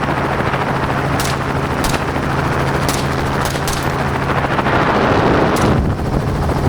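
Sharp gunshots fired from a helicopter during a hog hunt, about six cracks spaced irregularly over a constant loud rotor drone with wind buffeting.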